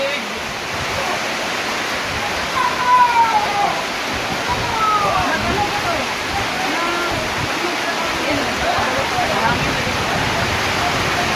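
Rain pours steadily onto the roof over a resort's covered pool area, a dense, even hiss close by that holds through the whole stretch, with faint voices and occasional sounds mixed beneath it.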